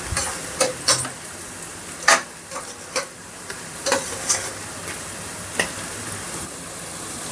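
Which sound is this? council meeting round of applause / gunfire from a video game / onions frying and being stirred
onions frying and being stirred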